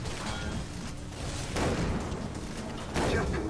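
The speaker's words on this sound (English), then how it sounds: "Fire those rockets." Rockets fire in Far Cry 3 Blood Dragon as a dense run of loud booming bursts and rumbling blasts, with heavier surges about midway and near the end over continuous game noise.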